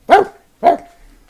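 A dog at a campsite gives two sharp, loud barks about half a second apart, close by and alone with no talking.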